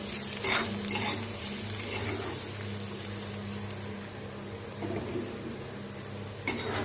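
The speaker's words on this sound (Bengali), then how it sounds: "দিয়ে দিলাম কালো জিরে, শুকনো লঙ্কা আর রসুন। ভালো করে আবারও ভেজে নেব, লাল লাল করে ভেজে নিতে হবে।" Nigella seeds, dried red chillies and garlic fry in oil in a pan with a steady sizzle, broken by a few scraping stirs and clinks of the spatula, close and continuous with no talk.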